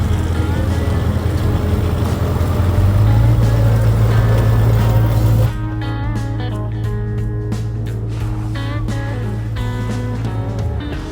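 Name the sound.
4x4 vehicle climbing Bluff track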